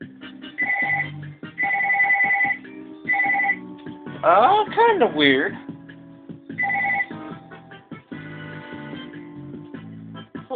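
A phone rings in repeated electronic bursts, close and fairly loud, with a person speaking briefly between the rings.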